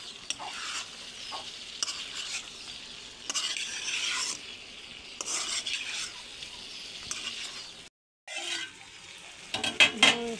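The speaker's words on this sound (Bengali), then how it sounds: "মাংসটি দিয়ে একটু ভুইনা কেনে পরে আলু দিয়ে দেওয়া হইব" Country chicken pieces are stir-fried in a pan for a curry with potatoes, close sizzling under repeated scraping stirs of a utensil against the metal, with a short silent gap near the end and no talking.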